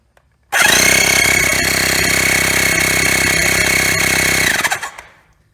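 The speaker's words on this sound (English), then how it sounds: "I basically turn the compressor on, and you'll watch this go down in" Air compressor running to inflate a motorcycle tire, starting abruptly into a loud, steady mechanical drone with a constant whine, holding for about four seconds and then sputtering down in a few uneven pulses before stopping.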